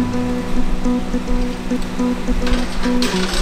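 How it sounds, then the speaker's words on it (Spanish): Steady rain patters on a surface, with scattered drops and a continuous wash of noise, fairly close. "porque está lloviendo"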